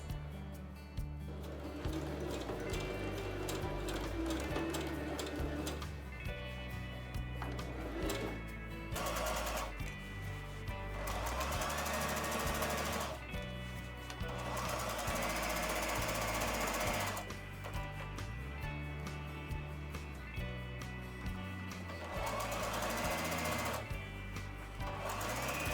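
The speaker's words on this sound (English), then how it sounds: "We are now going to sew 1 centimeter of seam allowance" Sewing machine stitching a one-centimetre seam while boxing the corners of a large fabric tote bag, a fast steady mechanical chatter in several long runs with brief stops between them, close and clear.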